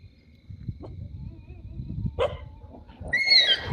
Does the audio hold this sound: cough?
no